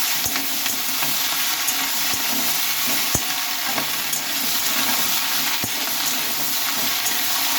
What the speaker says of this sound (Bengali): এখন এটাকে একটু নেড়ে করে দিতে হবে